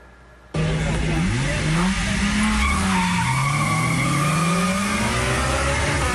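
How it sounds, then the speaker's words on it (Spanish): Car engines roar and tires squeal on asphalt at an illegal street race. The sound is loud and continuous, with revving and long skidding screeches that rise and fall for several seconds. "El ruido de los motores y del contacto de las llantas contra el asfalto"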